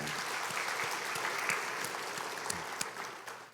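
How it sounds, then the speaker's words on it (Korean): Congregation applause for a church choir after it sings in a worship service, a dense steady patter of many hands clapping, fairly loud and continuous with a few sharper claps standing out. "우리 박수로 한번 축복할까요?"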